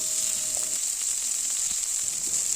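Spice paste fries in oil in a pan as chopped tomato goes in for an eggplant bharta, a close, even sizzle that hisses continuously with faint spatters and no talk.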